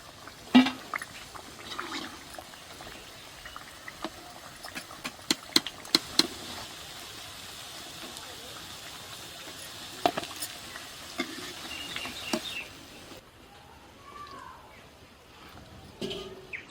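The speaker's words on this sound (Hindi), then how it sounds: "अब एक एक करके हम तेल से निकाल लेंगे बाहर।" Khasta khajur, a fried sweet biscuit, lifted piece by piece from hot frying oil: faint bubbling oil under scattered sharp clinks of a utensil against the pan, quieter toward the end.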